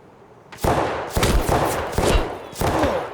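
Gunfire in the Escape from Tarkov video game, five loud separate shots spaced roughly half a second apart, each with a booming tail, with no talking.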